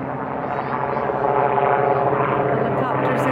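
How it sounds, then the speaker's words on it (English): A steady airborne drone of helicopters overhead near the Lions Gate Bridge holds at a moderate level for a few seconds, with a voice talking over it. "Helicopters in the sky."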